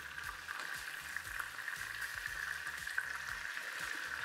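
Frikadellen, German meatballs, frying in a pan, giving a steady, soft sizzle with light crackling spatter throughout and no talk.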